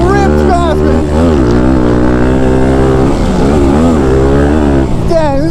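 A Thumpstar TSX140 pit bike screams close by on a pitbike track, its high-revving single-cylinder engine rising and falling through shifts as other bikes roar past. A rider talks over the engine noise.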